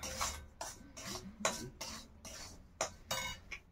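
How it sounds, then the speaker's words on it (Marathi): Semolina roasting in a pan is stirred with a spoon, giving soft, rhythmic scraping strokes about twice a second, close and fairly quiet. "इथं रवा भाजतोय मी."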